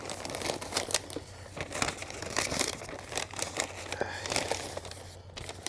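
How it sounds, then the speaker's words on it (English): A cooked brisket is wrapped by hand at a hot-and-fast competition-style cook, with close, continuous crinkling and crumpling of the wrap as it is folded over, and no speech. "Get it wrapped here. I'm gonna wrap it over again."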